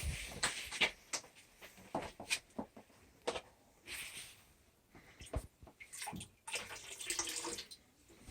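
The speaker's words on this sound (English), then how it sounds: "So now I got to put some more water back in there." Water splashes and pours back into a gold panning tub during a fine gold concentrate run, arriving in uneven close bursts with short pauses between.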